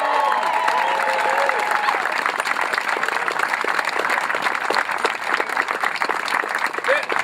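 An outdoor crowd applauding and cheering for cyclists at a charity ride event, steady dense clapping with scattered whoops and shouts and some voices mixed in.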